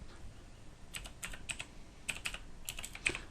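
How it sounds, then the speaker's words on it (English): Typing on a computer keyboard at a workstation, short bursts of quick key clicks, close and fairly soft, with no talking. "Type birthday over here in our open pattern."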